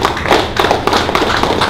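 At a government transparency briefing in Bayelsa, a small audience claps in a brief burst of close, loud, uneven hand claps with thumpy individual strikes.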